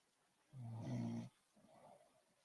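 A man asleep at his desk gives one loud, rough snore lasting under a second, followed by a softer trailing breath, with no talking.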